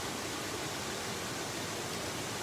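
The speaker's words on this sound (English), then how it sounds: "Good morning, the waterfall." A waterfall pours out a steady, dense roar on a quiet morning outdoors. The wash is unbroken and even for the whole stretch, with no voices over it.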